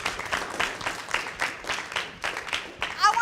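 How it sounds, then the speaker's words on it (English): A conference audience at the McGraw Hill ALEKS math conference gives a round of applause, a dense, sustained patter of many hands, with a voice breaking in near the end. "Give him another round of applause,"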